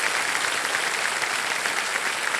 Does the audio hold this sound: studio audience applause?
yes